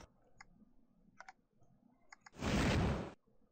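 A computer mouse click from an Animator vs. Animation stick-figure animation, heard as faint, sparse clicks and ticks followed by a short, louder burst of noise, with no talk.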